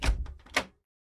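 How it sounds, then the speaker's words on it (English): A door opens during a children's bedtime story, giving a short close thunk and a couple of soft knocks before quickly fading to silence. "Suddenly the door opened."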